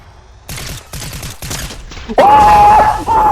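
In Fortnite, four rapid bursts of gunfire crack out in quick succession. A sustained electronic whine then sets in under louder game noise.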